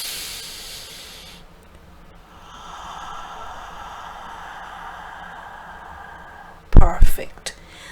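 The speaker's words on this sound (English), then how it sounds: "Now take a deep breath." A person draws a long, deep, airy breath that hisses softly for several seconds, followed by a short louder burst of breath noise.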